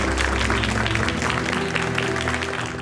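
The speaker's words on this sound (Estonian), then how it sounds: "teen veel ühe suure aplausi" Applause from an audience cheering the winner of a young software developers' competition, dense steady clapping filling the whole stretch at a strong, even level.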